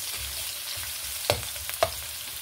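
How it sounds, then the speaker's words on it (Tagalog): Onion and garlic sauté in a pan with a steady, moderate sizzle, broken by a couple of sharp clinks and scrapes from stirring near the end. "Haluin lang po natin, guys, hanggang sa maging brown na yung garlic sa sibuyas."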